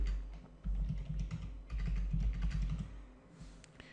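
Fast typing on a computer keyboard while entering PHP code: dense clusters of close, clattering keystrokes in quick bursts with brief pauses.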